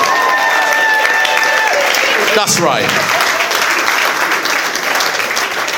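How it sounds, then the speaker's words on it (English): Wedding guests at a reception in Merrydale Manor break into steady, dense applause for the bride, a continuous close wash of clapping with voices talking briefly over it. "Give her a round of applause."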